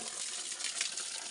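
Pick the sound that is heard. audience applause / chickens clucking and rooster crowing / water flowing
water flowing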